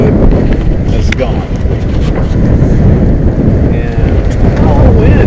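Strong wind roars and buffets the microphone aboard a sailboat moving at about 7 knots on a cold day, a loud, constant rushing with water wash underneath and occasional creaks, while people talk over it.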